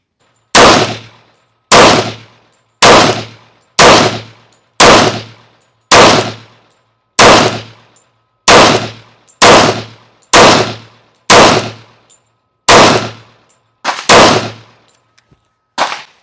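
An FNX-45 Tactical handgun fires .45 rounds in a steady series of about a dozen loud, sharp shots, each trailing off into a brief echo, spaced roughly a second apart, with no talking.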